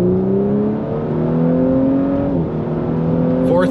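An Audi B9 S4 with an upgraded intercooler accelerates hard on a road performance run, its engine note climbing loud and steady before dropping at a gear change.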